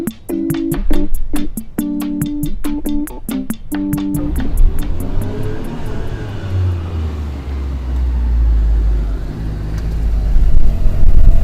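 Rhythmic beeping tones at the start give way to a Suzuki Cappuccino car driving past, its engine and road noise swelling nearby and growing louder toward the end.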